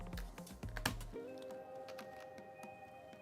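Mechanical key switches are pushed one by one into a Corsair MAKR 75 keyboard during a build, giving a cluster of close, sharp plastic clicks and taps before a steady hum takes over.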